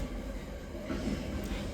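A steady low rumble of a cargo train rolling past at a distance, a continuous dull roar with no talking.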